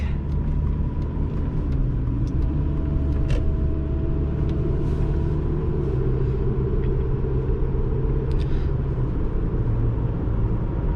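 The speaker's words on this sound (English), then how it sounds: "This is the naturally aspirated 4-cylinder" A 2012 Hyundai Sonata's naturally aspirated four-cylinder engine idles with a low, even rumble and hum, continuous and close, with no voices.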